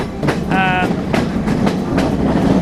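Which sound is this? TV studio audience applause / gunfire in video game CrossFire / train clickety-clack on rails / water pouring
train clickety-clack on rails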